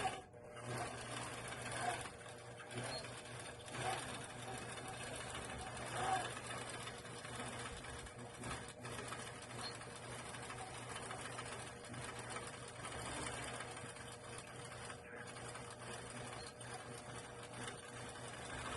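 A sewing machine stitches steadily across a quilt for the whole stretch, a continuous close mechanical whir with slight rhythmic variation, while a person talks over it now and then.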